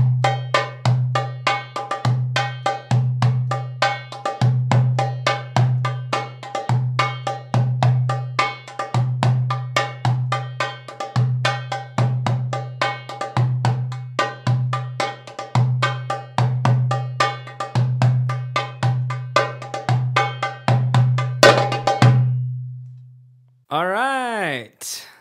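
A darbuka plays alone, keeping a steady pattern of deep doum strokes under dense, rapid ornamented taks as it switches between two related rhythms, crisp and close for over twenty seconds before a brief pause and a final flourish.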